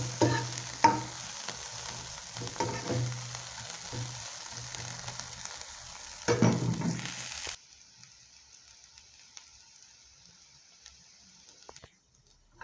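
Beef, onion and green chili stir-frying in a pan, a loud steady sizzle with scraping stirs and clatters, then a sudden drop to a faint hiss as the heat is cut.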